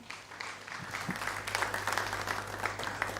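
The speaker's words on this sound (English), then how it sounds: "All right, a round of applause, please." Audience applause at the grand finale of an inter-school public speaking competition, building from scattered claps into sustained clapping from a large crowd indoors.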